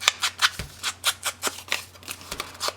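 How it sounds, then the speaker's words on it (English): Scissors snipping through paper for an envelope mini album, with a quick, even series of about a dozen close, crisp cuts, no talking. "I may have to cut it smaller."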